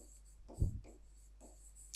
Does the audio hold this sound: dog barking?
no